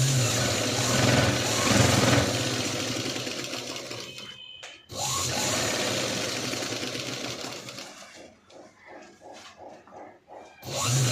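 A sewing machine stitches a boat neck blouse in two long, steady runs separated by a short pause, then slows into a series of short, stop-start bursts.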